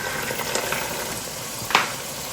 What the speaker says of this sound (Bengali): এখন আমি দিয়ে দিচ্ছি আমার ধুয়ে রাখা পোলার চালটা